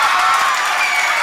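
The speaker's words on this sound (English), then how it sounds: "And the crowd goes wild." A large arena crowd at a fight roars and cheers after the referee stops the bout, a dense, loud, continuous wash of voices and applause.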